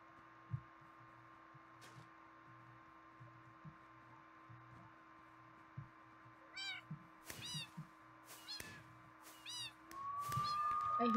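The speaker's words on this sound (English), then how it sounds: "I hear a cat." A cat meows several times in a row, short repeated cries growing more frequent toward the end, heard over a steady electronic hum and a low rhythmic music loop.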